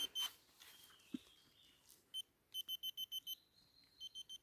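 A metal detector searching for buried fibulae gives a rapid series of short, high electronic beeps, with a few isolated tones before them, faint and otherwise quiet.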